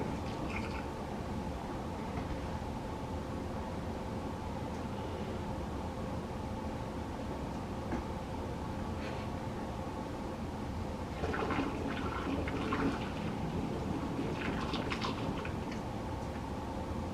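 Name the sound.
pouring warm water into a mead vessel with honey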